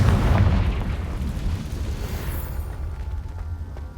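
A Confringo fire spell explodes in Hogwarts Legacy, a loud, close, rumbling blast at the start that slowly fades into a quieter low hum.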